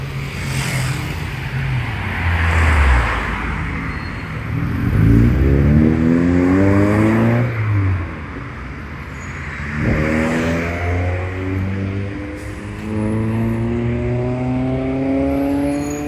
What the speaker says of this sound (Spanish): Tráfico pesado a esta hora de la mañana.